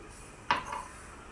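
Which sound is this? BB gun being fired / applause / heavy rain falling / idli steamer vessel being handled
idli steamer vessel being handled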